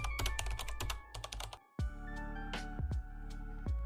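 Rapid bursts of typing on a computer keyboard, close and crisp, with a short pause and then a few heavier individual keystrokes, including spacebar or enter presses.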